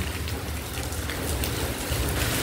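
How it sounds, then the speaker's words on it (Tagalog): Heavy rain pours down in a dense, constant hiss, drops drumming hard on surfaces with no pauses. "Ang lakas talaga ng ulan."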